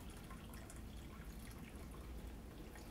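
Thick, muddy clay water, dug from a backyard for pottery clay, pours steadily out of a container with a soft, continuous liquid wash. It is quiet and unbroken, with no talking.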